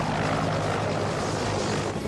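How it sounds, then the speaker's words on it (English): A helicopter flies toward a rescue craft in an action horror movie, its loud, steady rotor and engine roar filling the scene continuously without any break. "There's an unidentified helicopter and it's flying toward the rescue craft."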